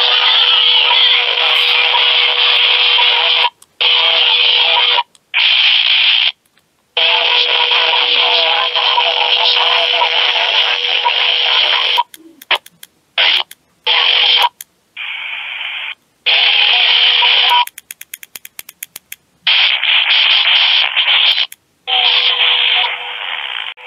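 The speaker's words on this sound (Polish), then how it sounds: "i teraz akurat wyłapuje jakieś radio broadcastowe." Band-limited broadcast radio audio picked up on a Quansheng handheld radio near 27.555 MHz, a steady tinny signal repeatedly cutting in and out with silent gaps and brief clicks and bursts of static.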